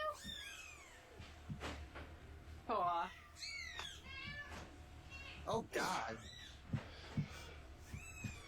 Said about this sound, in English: I hear the kittens